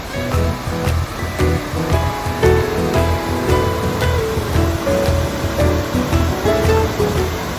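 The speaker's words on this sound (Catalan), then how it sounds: "Aquí sona a cascada." Waterfall in Scotland heard as a steady, loud, rushing roar of falling water, continuous and close, with rhythmic thumping and rattling overlaid.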